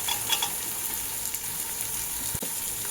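Soybean pulao with green peas sizzles steadily in a hot pan while being stirred, a continuous close frying hiss with a few faint scrapes and no voices.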